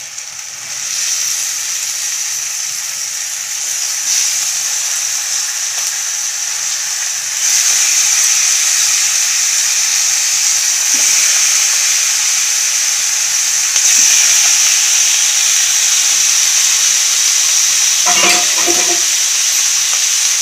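Cleaned chicken liver goes into a hot pan and sizzles steadily, a loud, close, hissing fry that swells after a few seconds, with faint utensil taps near the end.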